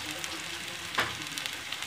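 Steady sizzling of onions frying in a pan as chopped green chilies and turmeric powder go in, a continuous close hiss with a brief louder splash near the middle.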